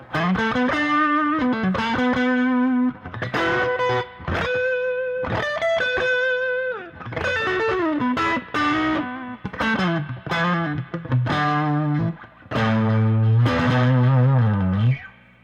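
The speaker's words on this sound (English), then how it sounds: "now we got a Boss Blues driver on the floor here. Let's check out how that sounds." A 1966 Fender Stratocaster through a Boss Blues Driver overdrive pedal plays a bluesy run of bent notes and chords, gritty and sustained, with no talking.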